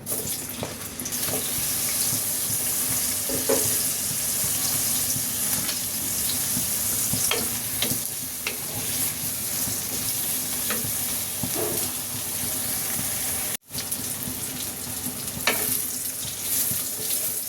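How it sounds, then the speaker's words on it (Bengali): Eggplant pieces fry in an unsalted pan with a constant loud hissing sizzle, broken by occasional clinks and scrapes of stirring, heard up close without talk and with one brief dropout near the end. "এটাকে আমি একটু ভেজে নেব, লবণ ছাড়াই একটু ভেজে নেব আগে"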